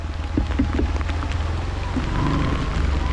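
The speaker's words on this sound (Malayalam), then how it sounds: "ഭയങ്കര മഴയാണ് കേട്ടോ, ഭയങ്കര മഴയാണ്" Dense rain patters loudly and continuously on the Palchuram mountain road in Wayanad, with a low rumbling drone underneath and scattered heavier drops.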